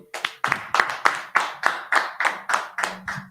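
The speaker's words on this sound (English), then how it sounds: "Let's clap it up." An audience at a Monday night scripture class in Durham, North Carolina claps in a steady rhythm, about a dozen sharp, evenly spaced beats heard close and loud.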